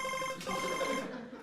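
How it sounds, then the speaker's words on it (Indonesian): A phone ringtone sounds, a steady electronic ring with a tonal warble lasting just over a second, fairly quiet with no voices over it. "Ada telepon."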